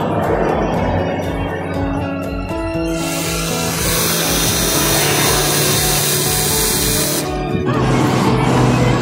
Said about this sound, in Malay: seeloknya tebuk pakai skru dulu untuk kita buat penanda